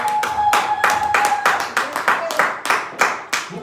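A church congregation claps to acclaim the Lord during a sermon, with a steady run of loud, rhythmic hand claps close up, a few voices faintly under them.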